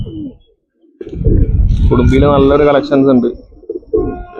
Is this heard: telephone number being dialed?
no